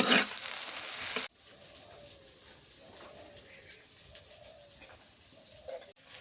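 Onions salted in a pan give a loud burst of sizzling at first, then a quieter, steady fry continues with faint clinks and soft background sounds.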